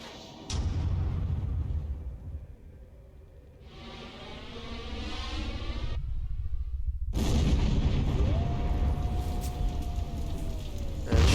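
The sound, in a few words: explosion after shutting the doors, from video game Age of Mythology: Retold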